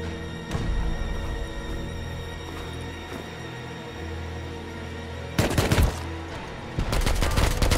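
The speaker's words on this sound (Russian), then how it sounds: "И именно сейчас я слышу звуки взрывов как раз таки в стороне моего дома" Explosions from a base raid in a survival video game, a few sharp distant bangs over steady background noise, followed by two loud heavy blasts near the end.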